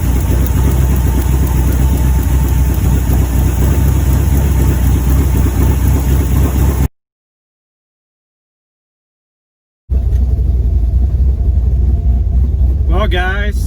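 A car engine runs with a steady, loud rumble, cuts out to silence for a few seconds, then resumes more quietly with a brief rising whine near the end.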